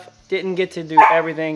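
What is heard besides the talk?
dog barking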